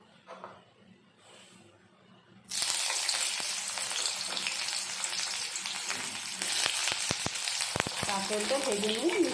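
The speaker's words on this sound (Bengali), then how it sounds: "কড়াইয়ে তেল গরম করে নিয়ে প্রথমে কাঁকরোলটা ভেজে নিচ্ছি।" Teasel gourd frying in hot oil in a wok: quiet room tone, then a loud, dense sizzle bursts in and holds steady, with scattered crackles and pops, and no talking.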